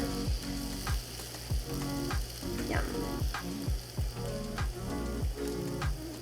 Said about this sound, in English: Oh, you can already hear it sizzling.